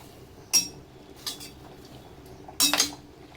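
Utensil clinks against a cooking pot while turmeric powder is stirred into lentils and snake gourd, three brief metallic scrapes and knocks with quiet pauses between, close and fairly soft.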